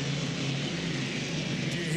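The Atlas racing hydroplane, powered by a Rolls-Royce Merlin piston engine, gives off a loud, continuous droning roar with a low rumbling throb, heard steadily throughout the short stretch.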